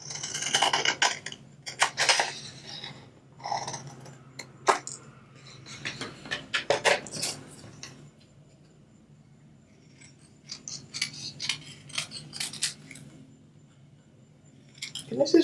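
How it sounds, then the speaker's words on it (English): Scissors snip through red card stock while Christmas cards are being made, a quick cluster of crisp close cuts with light clinks, then sparser snips after a short pause. "I'm just going to cut from the bottom."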